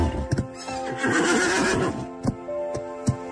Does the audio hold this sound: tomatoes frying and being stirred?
no